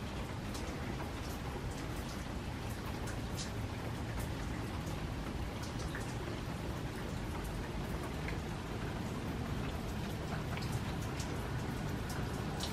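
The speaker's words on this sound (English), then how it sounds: "And outside it is raining. You can hear the sound of the rain." Heavy rain falling outside, a dense, steady roar of drops that holds at an even level throughout, with no voices.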